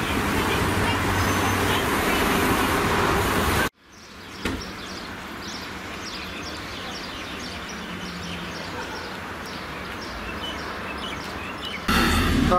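Steady traffic noise from a car driving along the Tel Aviv seafront, with a continuous road rumble and a brief dropout partway through.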